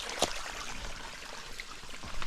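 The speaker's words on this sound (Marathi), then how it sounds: "या झाडाखाली हे पाणी जे वाहतं आहे हे एका विहिरीतून पाणी वाहतं आहे" Water from a well beneath a tree at Nagzari, in a Balaghat hill village of Dharashiv, flows in a steady, faint rushing trickle, with one sharp click near the start.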